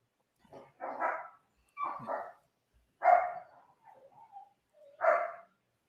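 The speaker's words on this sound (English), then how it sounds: "I've got dogs wrestling now." Dogs wrestling at home give four short bursts of barking and growly yips spaced about a second apart, with a small whine between them, close and fairly loud with no talk.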